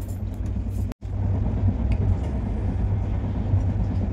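Inside an air-conditioned three-tier sleeper carriage of an Indian train, a steady low rumble fills the space, broken by one sharp momentary dropout before the droning resumes.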